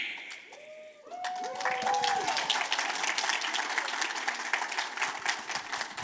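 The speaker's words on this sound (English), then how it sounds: "Round of applause." A conference audience applauds during a quiz-style game show session at a Ruby programming conference, steady clapping that swells after a brief tone and fills the room for several seconds.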